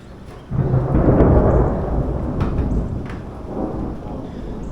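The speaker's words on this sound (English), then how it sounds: "The ominous thunder." Thunder rumbling in a garage during a 2023 MT-10 air filter install, a low rolling boom that swells suddenly, then fades and rumbles again, fairly near and alone.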